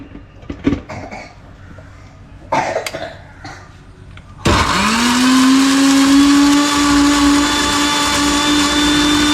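A few knocks and a cough, then a mixer grinder starts abruptly and runs loud and steady with a high whine, blending chopped fruit for juice continuously to the end.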